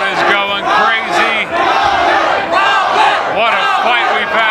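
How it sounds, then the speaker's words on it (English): A fight crowd at the Hale versus Osho bout roars and yells nonstop, with shouting voices rising and falling in loud waves close around the listener. "The crowd is going crazy."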